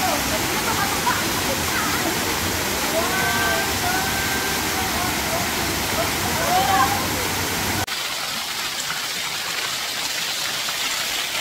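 Water of the Gunwi River in South Korea rushes continuously in a broad, steady wash, with faint voices underneath; the sound drops noticeably in level near the end.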